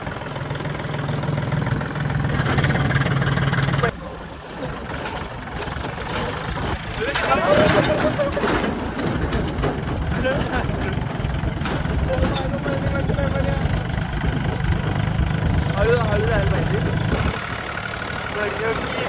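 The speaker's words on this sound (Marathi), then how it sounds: "आणि ही ट्रॅक्टर आता मी चालवून आहे" A farm tractor engine starting up and running at idle, a steady low mid-pitched rumble that drops briefly and then continues through the clip, with voices heard at times.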